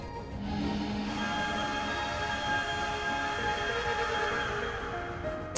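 The Fate Train Express in an indie video game rumbles steadily as it rolls past, a continuous loud drone of rail noise with a low hum and a faint higher whine, and no talking.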